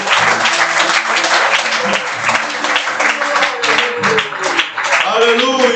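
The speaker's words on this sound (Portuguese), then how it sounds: "Por isso que você bate palmas para o Senhor Jesus Cristo" Church congregation clapping and applauding in a worship service, a dense sustained burst of many hands filling the room throughout, with voices mixed into the crowd noise.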